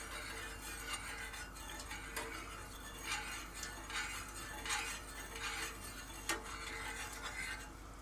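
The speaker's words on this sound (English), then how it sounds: "we'll stir that around a little bit and just get that nice and dissolved in there" A spoon stirs sugar in a pot to dissolve it, giving soft, irregular scraping and faint clinks at a quiet, close level with no voices.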